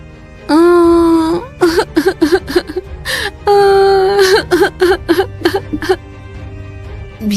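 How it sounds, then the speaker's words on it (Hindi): A woman sobs and wails in a sound effect for a Hindi fairy tale about a princess, with long rising cries broken by choked, gasping sobs, loud and close with no other voices. "तभी राजकुमारी चंद्रमुखी के कानों में किसी स्त्री की रोने की आवाज टकराई।"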